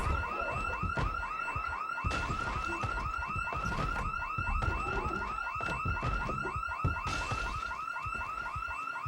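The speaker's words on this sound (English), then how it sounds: "And that is the alarm for the house." A house burglar alarm in the zombie-survival game Project Zomboid rings without a break, a loud electronic chirping that repeats in a fast, steady cycle for the whole stretch, with no one speaking.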